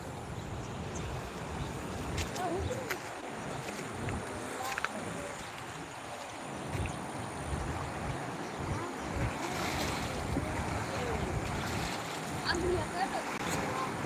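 The flooded Machhu river at Morbi rushes past, bank to bank, in a broad, continuous roar with wind buffeting the microphone and a few faint clicks.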